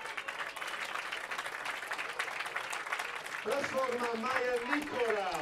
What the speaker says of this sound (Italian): Gli applausi del centro sportivo Memo Geremia